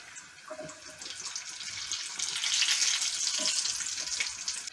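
Potato-filled pirozhki fry in oil in a pan, giving a steady close hiss and crackle that swells slightly midway, with no voices.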